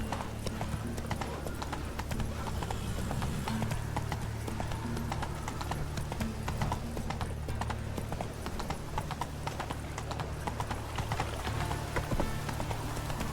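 Steady, continuous clip-clop of a horse's hooves at a brisk pace in The Witcher 3: Wild Hunt, close and prominent throughout, with a faint game soundtrack underneath.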